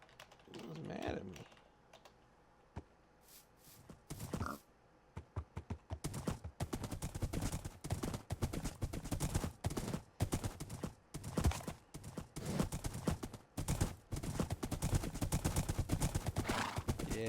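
Minecraft horses clip-clopping in quick, uneven bursts of hoofbeats with occasional whinnies, loud and close, with some talking mixed in.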